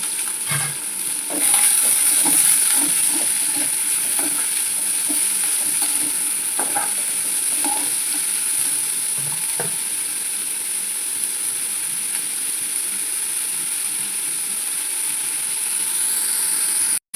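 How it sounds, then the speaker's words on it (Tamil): Steady sizzling of onions and curry leaves frying in hot oil after mustard seeds, with salt added, in a pan, with occasional stirring clinks and scrapes, close and continuous throughout. "உப்பு போட்டு வெங்காயம் வதங்கணும் ஃப்ரெண்ட்ஸ்"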